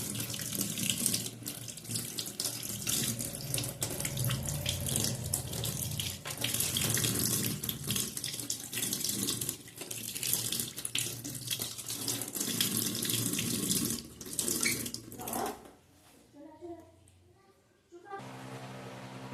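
Tap water pours steadily into a sink while soaked food is rinsed and drained for a neem-and-eggplant dish, splashing and gurgling for about fifteen seconds before cutting off, followed by quieter trickles and a brief final rush.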